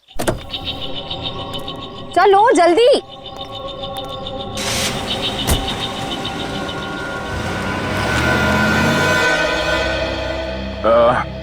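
A car door shuts, then the engine starts and the car pulls away, its engine rising steadily, with a short warbling siren-like tone early and again near the end, under brief talk.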